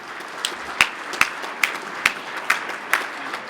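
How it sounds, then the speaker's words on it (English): Scattered audience applause at the 2022 GNCC Friction Finals off-road championship, with a few sharp individual claps popping out at a steady pace above a thin, distant crowd wash, under faint background noise. "Big round of applause, Rod."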